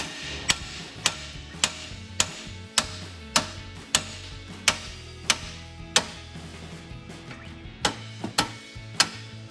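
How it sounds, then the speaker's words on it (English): Metallic hammer blows strike a rusty Mustang front tie rod end at a steady pace, about fifteen sharp strikes ringing out one after another, close and loud. "All I like to do is take a hammer"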